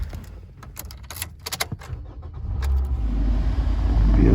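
2018 Toyota Corolla sedan starting up: a few sharp clicks and cabin knocks, then the engine catches and settles into a steady, rising idle close by.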